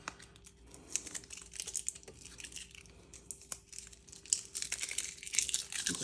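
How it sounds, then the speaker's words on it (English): Tape is peeled off die-cut paper pieces for an advent calendar. The result is soft crinkling and tearing rasps with small papery clicks, close up and fairly quiet, in irregular bursts with no voice. "I'm just going to take all the tape off of these."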